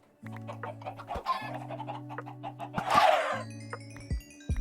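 Chickens in the video game Minecraft cluck in short bursts under a steady low hum, with a louder flurry of flapping or squawking in the middle and brief thumps near the end.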